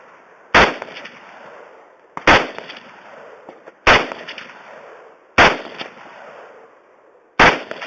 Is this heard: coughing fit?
no